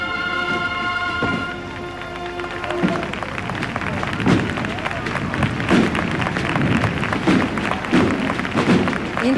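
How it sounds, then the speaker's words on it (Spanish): Applause from a large crowd in Cádiz as a Holy Monday procession enters, steady clapping mixed with cheering and murmuring voices, with a band or music audible in the background near the start. "Entra bajo los aplausos de los gaditanos"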